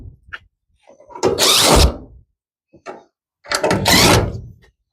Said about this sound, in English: we're going to remove these four screws right here